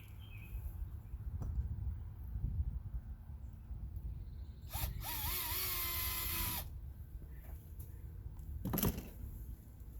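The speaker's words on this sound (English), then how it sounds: "You drill one hole, put a screw through." A power drill runs in a sustained, fairly loud whir for about two seconds while driving a screw for a YakAttack LeverLoc anchor trolley install on a kayak, with a brief second burst afterward amid quiet handling noise.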